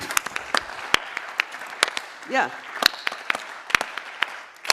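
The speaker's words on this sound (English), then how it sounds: "Let's give them a Farmer Field School clap." An audience gives a Farmer Field School clap at an agrifood systems event, a sequence of sharp, separate, fairly close hand claps in an uneven rhythm, with a brief voice heard partway through.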